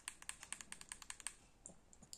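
Rapid clicky taps on the buttons of a ZPG Pro handheld gaming console, about a dozen quick presses in a steady run, then a short pause and a few more scattered taps, quiet and close.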